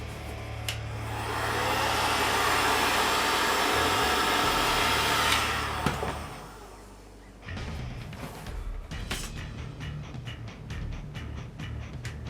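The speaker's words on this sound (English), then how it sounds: "I'm going to heat these up a little bit more." A hot air tool heats taped shin guard pieces, blowing a steady loud whoosh for several seconds before stopping, followed by quieter handling clatter and softer airflow.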